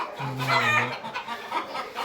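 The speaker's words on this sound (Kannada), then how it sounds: "ಒಂದು ಕೋಳಿ ಹಿಡಿದ್ರೆ ಅಲ್ಲೆಲ್ಲ ಕಿರ್ಚ್ಕತ್ತಾವೆ." Chickens cluck and squawk in agitated bursts as one is caught, the calls close and fairly loud with a busy overlapping flock behind.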